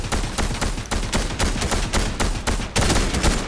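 Rapid video game gunfire, a dense burst of loud close shots fired in quick repeated volleys with barely any pause between them.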